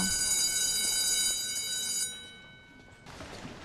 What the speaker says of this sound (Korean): 조사 도중 수업 시간을 알리는 종이 울리고.